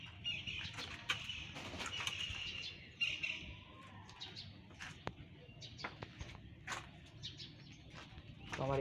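Doves and Sirazi pigeons in a small home loft give faint scattered chirps and coos, with occasional wing flutters and sharp clicks against quiet background noise.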